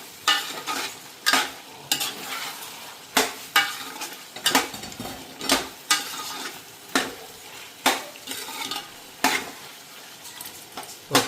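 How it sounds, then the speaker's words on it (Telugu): A spoon scrapes and clatters rhythmically against a pan as a village-style country chicken curry masala mixture is stirred, with repeated strokes over a soft sizzle and no speech. "ఈ మిశ్రమాన్ని మొత్తం కలుపుకుందాం మంచి నీట్గా. మొత్తం కలవాలండి, ప్రతి ముక్కకి చూసుకోండి,"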